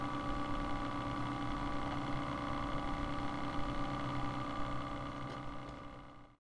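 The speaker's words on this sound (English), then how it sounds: "you should hear the pump start." A DURRIDGE RAD7 radon monitor's internal pump runs in purge mode as a steady, close mechanical hum with a constant tone, drawing air through a desiccant, before cutting off abruptly near the end.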